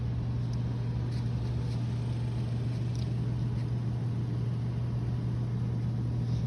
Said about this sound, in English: the vehicle is running